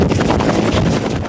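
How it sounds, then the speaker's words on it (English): Firefighting helitack helicopter running loud and close, a steady broadband rotor and engine roar with faint rhythmic blade pulsing and some wind buffeting. "We land, we very quickly take everything off the helicopter."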